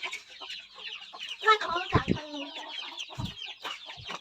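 Domestic chickens clucking while being fed on a small farm alongside Muscovy ducks, a busy close chorus of clucks and squawks with a few sharp scratching and pecking knocks.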